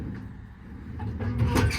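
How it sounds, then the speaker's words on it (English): Metal American Eagle twist-lock tool drawers slide on the body of a 2021 Ford F600 service truck, making a low rumbling glide that builds into clattering rattles near the end, close by with no talk. "you have a set of 7 American Eagle twist lock drawers. Again, all these slide super nicely."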